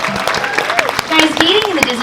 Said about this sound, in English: Please give these lovely suitors and princess a round of applause